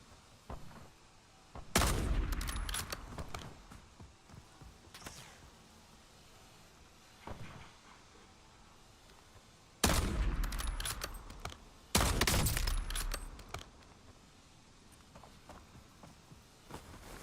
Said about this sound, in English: I like a good sniper fight like this